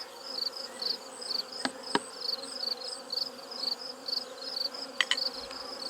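Honey bees buzz steadily in a dense, close swarm hum around frames during honey extraction from a first-year hive, with a few sharp knocks cutting through.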